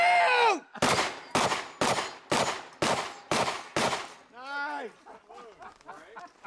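Shotgun shots at an action shooting side match, seven loud sharp blasts in quick succession, followed by voices talking and calling out.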